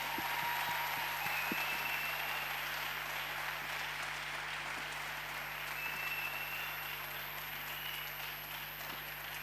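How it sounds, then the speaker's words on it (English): A big round of applause at a 15-year celebration, with a large audience clapping steadily and continuously at moderate volume, a faint steady hum underneath. "Can we just give them a big round of applause again?"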